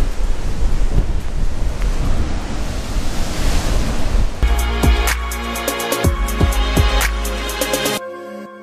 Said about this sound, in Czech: Ty vlny ohromný.